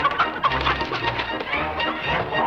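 Chickens clucking and squawking as they are caught on a ranch, a busy flurry of fowl calls mixed with scuffling and background noise, with no clear talk.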